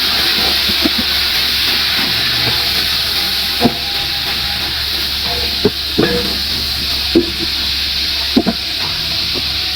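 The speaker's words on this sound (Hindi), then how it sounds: "थोड़ा सा पानी डालेंगे।" Steady hiss and sizzle of an aloo anda bhujia mixture in a hot pan after a little water is added, with a few sharp clinks of a spoon stirring and scraping at intervals, close and continuous without talk.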